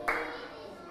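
A single brief clap or slap rings out in a first-grade math classroom, a short bright burst that quickly fades with no talking over it.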